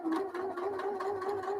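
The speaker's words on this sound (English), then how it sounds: "This is literally just a basting stitch to hold it in place while I do the schmancy fold." A sewing machine runs a basting stitch, its needle chattering in a fast, steady rhythm close by with no pauses.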